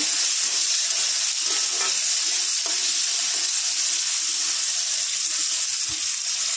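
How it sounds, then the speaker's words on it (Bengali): Potato pieces frying in hot oil with bay leaf give a loud, steady, close sizzle with a few faint clinks and no talking. "তেল দিয়ে দেবো, আলু, তেজপাতা। আলুটা ভালো করে ভেজে নেব।"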